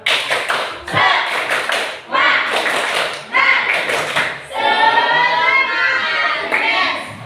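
Children in a classroom perform a rhythmic spirit clap, bursts of loud, patterned claps in quick groups alternating with short pauses, close and lively, with children's voices chanting along between and over the claps.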